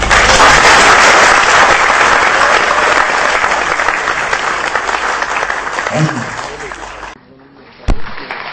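An audience claps loudly and continuously for several seconds, a dense crowd applause that thins near the end, then stops abruptly, leaving near silence broken by one sharp knock.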